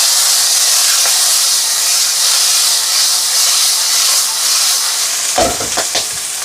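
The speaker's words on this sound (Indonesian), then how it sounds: "Sekarang goreng lauknya." Salmon sizzles loudly in hot oil in a home kitchen, a bright continuous frying hiss close up, with a few clattering knocks near the end and no talking.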